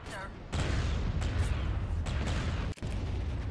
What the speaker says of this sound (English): Time to bomb them. Bombardment incoming